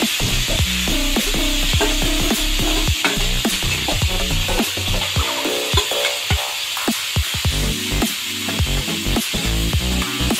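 Fish fries in mustard oil in a hot pan with a loud, steady sizzle. Frequent scraping stirs and knocks from a utensil sound close over the hiss throughout.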